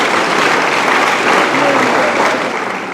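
An audience at an entrepreneurship and leadership talk applauds loudly, a dense, continuous wash of clapping with voices mixed into it.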